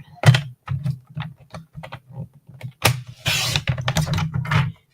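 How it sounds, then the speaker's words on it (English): Card stock for a vertical card is cut with a series of quick clicks and short scrapes from a paper trimmer blade, close and fairly loud, ending in a longer rasping slide. No one speaks. "we're going to cut this at 1 1/4"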